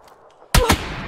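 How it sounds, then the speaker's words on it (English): Two sharp, loud gunshots fire in quick succession in a video game, close by, each followed by a brief ringing decay after a quiet moment. "They both shot me."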